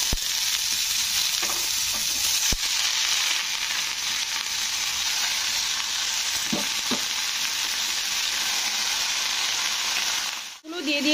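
Red amaranth greens fry in a hot pan with turmeric, giving a dense, steady sizzle and stirring scrapes close by, ending in a brief louder clatter; no one speaks.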